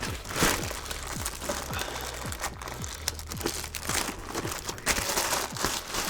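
Close, loud crinkling and crunching of plastic packaging as a Synergy Audio EFA 1K amplifier is worked free, in irregular rustling bursts with short tearing sounds throughout, no talking.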